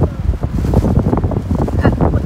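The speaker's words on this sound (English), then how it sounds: "it's so windy out here" Heavy wind buffets the microphone in uneven gusts, a rough low rumble dominating the whole clip.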